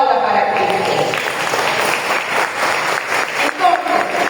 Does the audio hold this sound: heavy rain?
no